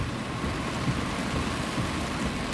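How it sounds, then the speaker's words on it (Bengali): Heavy rain falls in New York in a dense, steady roar, with no breaks and no voices. "আজকে প্রচণ্ড বৃষ্টি হচ্ছে নিউ ইয়র্কে।"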